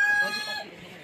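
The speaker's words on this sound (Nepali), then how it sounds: "भाले त खत्र बाँच्दियो त हो दसैँमा काट्ने होला है" A rooster clucks and calls close by in a home yard in the Gangtok hills, a short loud burst that fades out within about a second.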